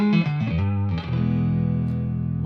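An electric guitar through a Fractal Axe-Fx III plays a few notes then rings out on a sustained chord, drenched in splashy spring reverb with a lingering echoing tail.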